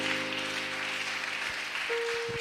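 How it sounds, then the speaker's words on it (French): A church congregation claps during a Sunday service, a dense steady applause that fills the room, with a sustained organ-like tone entering near the end. "Acclame un peu très fort."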